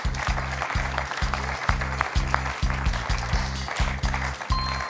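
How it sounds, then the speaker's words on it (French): A studio audience on the French quiz show Questions pour un champion claps steadily for contestant Benjamin, while a pulsing rhythmic music beat thumps underneath throughout. "On peut l'applaudir, Benjamin, pour ce magnifique score."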